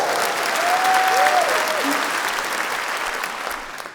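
Audience applause at a French stand-up comedy show, a steady wash of clapping that swells slightly and then tapers over a few seconds, with a faint voice-like tone sliding through early on.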